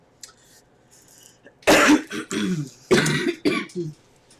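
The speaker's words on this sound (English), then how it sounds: "Clear my throat." A few rough throat-clearing bursts and coughs come in quick succession, close and loud, after a short quiet breath.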